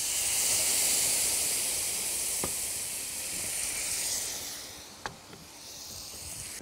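Chicken broth poured into a hot pan with curried shrimp gives a steady bright hiss and sizzle that fades slightly toward the end, with a couple of sharp clicks near the close.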